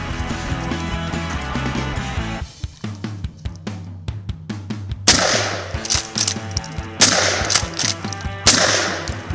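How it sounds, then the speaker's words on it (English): A 20 gauge Mossberg shotgun fired at pumpkins outdoors, several loud sharp blasts at uneven intervals with bursts of splattering debris after each, preceded by a stretch of busier background sound. "She's gonna be shooting it with her 20 gauge Mossberg."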